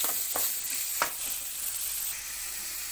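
Onion and dried red chillies sizzle faintly in a pan for snake gourd kootu, a soft steady hiss broken by a couple of quick stirring scrapes.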